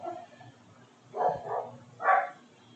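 Dogs barking in a home setting, a few muffled barks at mid distance in short bursts, moderately loud over a quiet background.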